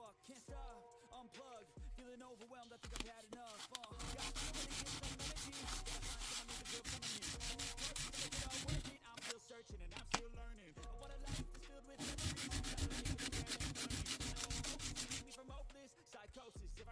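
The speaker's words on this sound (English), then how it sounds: "We are going to be sanding and polishing these edges, the flat parts." Rolled sandpaper rubs back and forth over the edges and flats of a Bersa Firestorm pistol extractor, steady scratchy strokes in close, sustained bursts with short pauses between passes, with music playing underneath.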